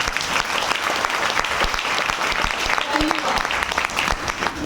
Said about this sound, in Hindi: सुरेंद्र सर के लिए जोरदार तालियां